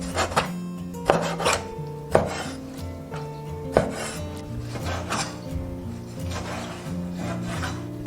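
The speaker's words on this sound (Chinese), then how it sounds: "把洗净的鱿鱼切成小段。" A knife chops cleaned squid into short pieces on a wooden board, giving a series of sharp irregular thuds close by, with a steady background hum and some faint clinking between strokes.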